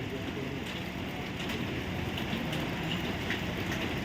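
Heavy rain pours steadily at Guruvayur temple in Kerala, a dense, even hiss of water falling on surfaces with no pauses, moderately close.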